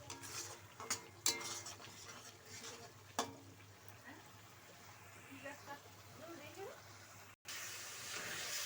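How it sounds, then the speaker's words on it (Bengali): Meat masala spices frying in a pan, a soft sizzle with a few sharp clinks and scrapes of a spoon stirring against the metal early on, then a quieter steady hiss, low and close. "মশলাটা আমি এইভাবে কষিয়ে নেব।"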